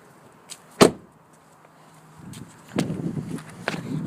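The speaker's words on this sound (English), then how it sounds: "Shut that door." A car door is swung shut with a single sharp thud, followed by quieter rustling, clunks and shuffling movement around the vehicle, with no voices.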